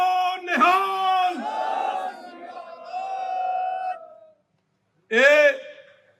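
A crowd at a Punjabi political rally shouts the Sikh jaikara in approval: one long, loud, rising group yell, then a brief silence and a second short, strong shout.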